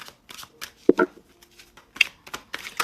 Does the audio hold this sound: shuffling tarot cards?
yes